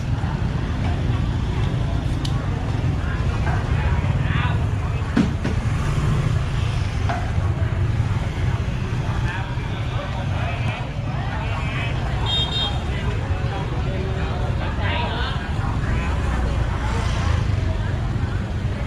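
Busy street traffic near a local market in Ho Chi Minh City, Vietnam, with motorbikes buzzing past, a steady roar of engines, occasional horn toots and a murmur of voices in the background.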